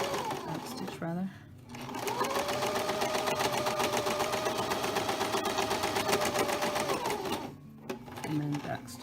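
A sewing machine back stitching a fabric face mask runs in one steady, loud burst lasting several seconds, with brief pauses at the start and end.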